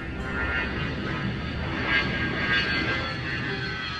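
A steady cartoon airplane engine drone with a whirring hum that swells slightly as the engines start, moderately loud and continuous, no voices.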